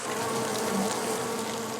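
Honeybees buzzing inside a hexagonal-comb hive colony of some 50,000 bees, a dense, steady hum that stays even and close throughout with no voices.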